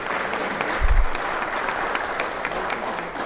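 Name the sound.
applause in the legislative chamber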